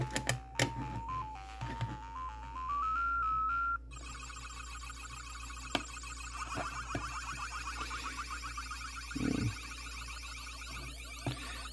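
A Ms. Pac-Man Pocket Player handheld game sends out bright electronic bleeps: a rising stepped jingle, then rapid chirping and pulsing effects with a few sharp clicks, close and moderately loud.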